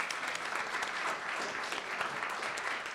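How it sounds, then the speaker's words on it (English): Audience applause for a distinguished guest at an international symposium on US–China power competition, a dense, even clapping heard at moderate distance for a few seconds. "let's give a round of applause for our distinguished"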